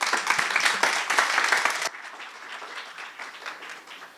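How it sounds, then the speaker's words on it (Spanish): Audience applause welcoming a speaker to an academic panel on audiovisual media and humanities: dense clapping for about two seconds, then cutting off abruptly to scattered fading claps. "Les pido un fuerte aplauso."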